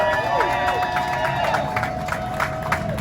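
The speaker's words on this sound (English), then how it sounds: "Let's give a nice round of applause to Big Boy." Crowd applause and cheering at an outdoor Hollywood Walk of Fame star ceremony in Los Angeles for Big Boy, steady clapping and whoops under a sustained tonal hum, with voices mixed in the noise.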